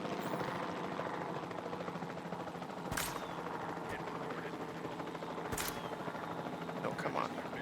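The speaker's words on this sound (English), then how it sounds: "Oh, the greatest helicopter in the world." Helicopter in the Jurassic World 2 video game, a steady rotor drone running throughout, broken by two sharp gunshot-like bangs.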